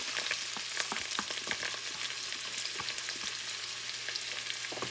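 Fresh sofrito of peppers and cilantro fries in a pan, a steady bright sizzle with scattered crackles and pops, close and continuous with no talking.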